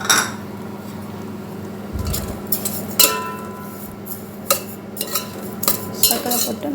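A spoon stirring grated carrot halwa with sugar in a pan, giving irregular metallic clinks and soft scraping knocks close by, with no one speaking.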